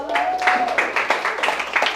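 A seminar audience gives scattered claps for an attendee from Orlando, Florida, a few sharp hand strikes under ongoing talk.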